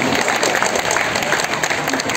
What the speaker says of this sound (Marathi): शेवटपर्यंत टाळ्या वाजत राहिल्या पाहिजे